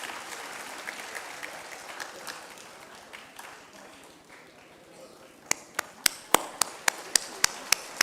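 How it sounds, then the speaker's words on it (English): Applause from a medical summit audience of doctors in Mumbai starts as a soft, diffuse patter and fades out, leaving a run of sharp, isolated claps close to the microphone. "Let us say a big round of applause, say a big thank you"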